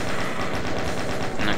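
Rapid automatic gunfire from an enemy in the shooter game Doom rattles continuously and close up for the whole short stretch, a dense run of shots with no talking over it.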